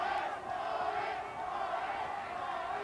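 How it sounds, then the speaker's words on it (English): A boxing crowd at a Mexican super flyweight title fight roars steadily in a dense, continuous wash of cheering and shouting that holds at an even level throughout. "the crowd definitely starting to get behind him"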